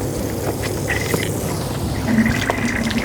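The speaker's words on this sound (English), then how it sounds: "We are going to drain the cold water supply lines, the hot water supply lines, and the tank drain." Water drains from a camper's cold and hot supply lines and tank drain through opened valves, a steady close splashing and trickling flow with faint gurgles.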